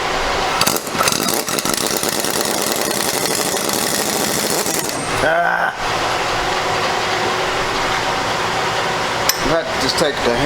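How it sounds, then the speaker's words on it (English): Loud, dense metallic banging fills the clip as a hammer strikes the end of a shaft on a 1973 Ford Torino Sport fastback, with a couple of sharper strikes standing out near the middle and end. "I have to just take the hammer and hit the end of that shaft."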